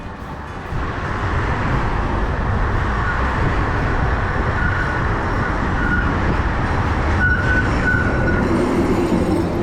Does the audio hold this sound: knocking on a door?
no